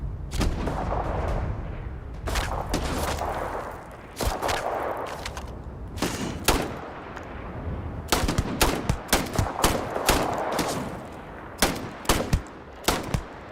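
Heavy gunfire in the space game Starfield from a shotgun-wielding enemy: sharp, loud blasts come in irregular bursts, some single and some rapid, over a low rumbling bed.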